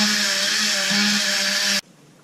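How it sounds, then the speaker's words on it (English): Dremel rotary tool spinning a stainless steel wire wheel against a Husqvarna 372 chainsaw part, a close steady high-pitched whine with a brief dip in load, then cutting off abruptly. "Now I can take my Dremel with the stainless wheel and work this stuff off."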